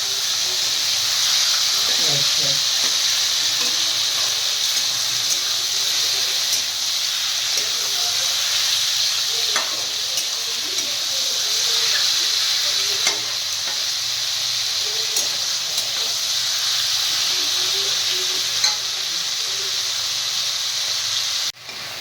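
Chicken curry frying in a home kitchen pan, giving a steady, loud sizzling hiss throughout with occasional stirring scrapes, while people talk faintly underneath.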